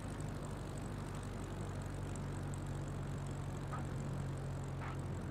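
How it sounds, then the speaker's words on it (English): A propeller plane comes in to land on a bush trip over Finland in a flight simulator, its engine a steady low drone with a constant hum, moderately loud and continuous throughout. "Try and get this plane on the go around."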